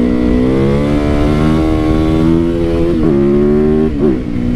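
A 450 supermoto motorcycle engine runs loud and close, holding a strong humming rev that rises slowly, then dips and surges briefly twice near the end, with no talking.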